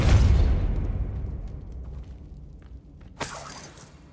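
A Depulso spell from the Hogwarts Legacy video game bursts out in a loud, booming blast that slowly fades, then a second, sharper impact cracks in near the end.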